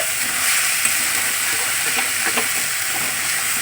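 Spiced fish mince fries in a pan with a steady, loud sizzle and hiss throughout, a few faint stirring scrapes rising briefly near the end, and no voices.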